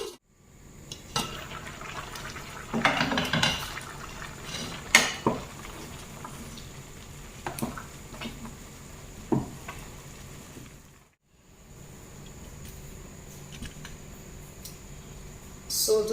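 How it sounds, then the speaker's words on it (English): Rice simmers in water in a pan over low heat, giving a soft, steady bubbling sizzle broken by a few sharp clinks and scrapes of utensils against the pan, close by and fairly quiet. "I'm going to cook this on this low heat until the water is dry and the rice is cooked."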